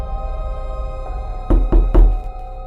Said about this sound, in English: Then the knocking came again.